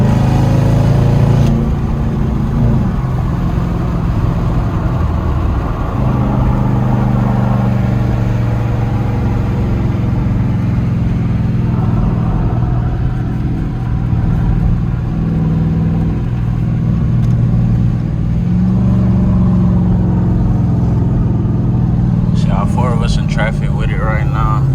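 Car engine drone from inside or beside a vehicle in Charlotte street traffic, a steady low rumble running throughout with voices talking over it.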